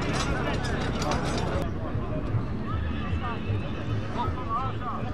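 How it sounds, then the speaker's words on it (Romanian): Horses neighing and whinnying at a double-team horse pulling contest in Baia Mare, loud repeated calls over crowd babble and hoof clatter. "O pereche de cai!"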